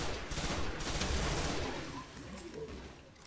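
Gunfire in the sci-fi shooter Destiny, a burst of dense shots rolling together in a loud crackling barrage that gradually tapers off.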